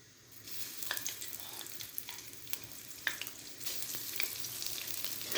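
Ginger and garlic paste sizzling in hot oil with cumin seeds in a pan for a karela pyaz (bitter gourd and onion) dish, a steady crackling fry with scattered small pops, moderately quiet and close, no talk.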